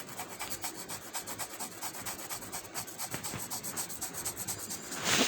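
A pencil drawing is rubbed on paper, making a steady, close, dry scratchy rasp with a quick back-and-forth rhythm that runs without a break and swells slightly at the end.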